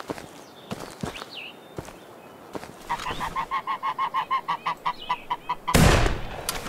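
Geese or ducks on a lake in the hunting game Hunting Simulator 2, a run of rhythmic repeated honks from a fairly near bird, with sharp thuds around it and a loud gunshot-like blast near the end.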